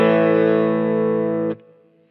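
A sustained distorted guitar chord through a Kemper Profiler Stage morph rig rings loud and close, with bright harmonics. It cuts off sharply and leaves a short fading tail.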